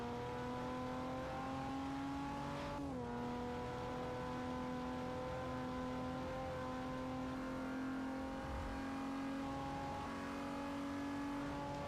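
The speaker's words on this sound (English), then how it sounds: "I can hear that turbocharger whirring away in the side of this DeLorean." A turbocharged DeLorean in Forza Motorsport 4 holds a steady engine drone with a whining turbo tone, which dips sharply once near the start and then resumes at a constant pitch, with no voices.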